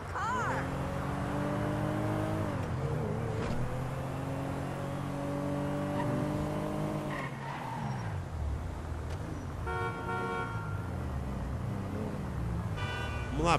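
A Toyota Corolla's engine in GTA V revs up repeatedly while racing, its pitch climbing and dropping with each gear change, steady and prominent, with a short horn-like tone near the end.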